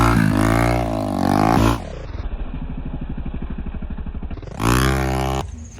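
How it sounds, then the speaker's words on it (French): A motorcycle engine revs loudly close by, rising twice in pitch around a stretch of rapid, throbbing idle-like pulsing, then cuts off abruptly at the end. "C'est la meilleure moto. The engine is so good."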